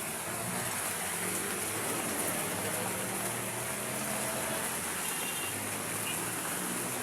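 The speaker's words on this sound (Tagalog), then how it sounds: "Madilim pa rin, malakas ang ulan." Heavy rain from Typhoon Nando falls in a steady, dense roar of hiss that holds constant with no pauses, and no voices are heard.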